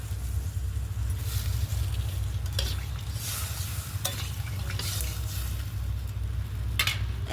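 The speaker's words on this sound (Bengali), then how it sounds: "এবার জল দেব, 1 বাটি মতো জল দিয়ে দিলাম।" Water goes into a pan of frying spiced potatoes and sets off a loud, continuous sizzle up close. A low rumble runs beneath it, with occasional faint clinks of a utensil against the pan.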